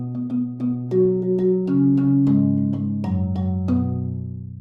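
Soft mallets from Salyers Percussion strike a keyboard percussion instrument, giving a rounded, projected tone: a steady sequence of about a dozen notes, each with a soft attack and a warm sustain that rings under the next, closing on a long decay.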